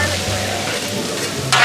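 Twenty pounds of cashew chicken stir-fry with noodles hissing on a Blackstone griddle, a steady, loud, close sizzle with a brief burst of sharper crackle near the end.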